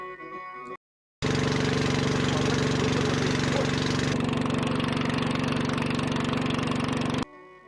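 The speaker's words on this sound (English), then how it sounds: "It was a beautiful trip this morning through the lush, verdant islands." A boat engine on a Mekong river trip drones at a steady, loud, close idle-like chug, beginning abruptly after a brief silence and running evenly for about six seconds before cutting back.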